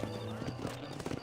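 A horse in the video game Red Dead Redemption clip-clops in a quick uneven run of hoofbeats, fairly faint, with low background sound and no clear speech.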